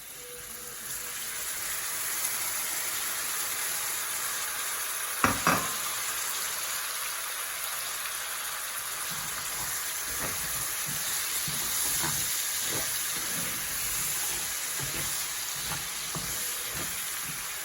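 Tomatoes tipped into a hot pan sizzle in a steady frying hiss, with a sharp clatter as they land and light stirring scrapes afterward.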